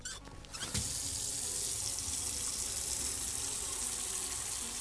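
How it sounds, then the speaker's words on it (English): Tap water pouring into a bucket in the Autopsy Simulator game: a brief clatter, then a loud, steady rushing stream that fills the rest of the clip without letup. "Fill the bucket with water."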